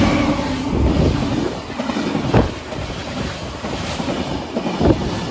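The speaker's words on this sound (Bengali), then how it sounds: "আমাদেরকে বসিয়ে ওভারটেক করে যাচ্ছে শক্তিপুঞ্জ এক্সপ্রেস।" A Shaktipunj Superfast Express overtakes at about 110 km/h on the line near Bardhaman, heard from a halted train: steady loud rushing rumble with wind buffeting and periodic clickety-clack wheel thumps.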